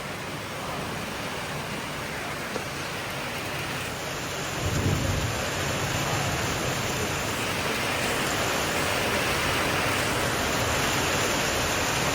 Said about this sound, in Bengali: শব্দ শুনতে পাচ্ছেন, মেঘের গর্জন।